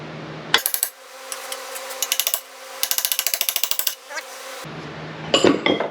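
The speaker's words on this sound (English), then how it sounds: "So I'm just going to use a small little chisel." A small chisel tapped against metal to mark a shallow groove during a 2006 Mazda rear suspension rebuild, heard as rapid bursts of sharp, close metallic taps in quick rhythmic runs, alone without talk.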